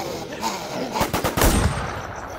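Bursts of gunfire from the zombie survival game The War Z, with a quick run of rapid, close shots rattling out over a steady background of game ambience.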